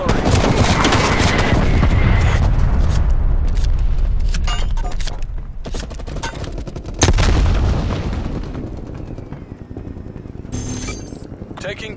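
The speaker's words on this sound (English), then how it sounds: "Net call. Incoming artillery." Incoming artillery fire in Call of Duty Black Ops Cold War lands as heavy, rumbling booms and crackling blasts, with sharper impacts scattered through a constant din, while radio voices speak over the barrage.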